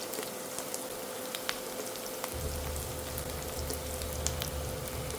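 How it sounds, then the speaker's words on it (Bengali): Onion frying in a pan for a spicy fish curry, a soft continuous sizzle with scattered crackles and a low rumble that starts partway through, heard alone. "পেঁয়াজটা ভালো করে নেড়েচেড়ে ভেজে নেব।"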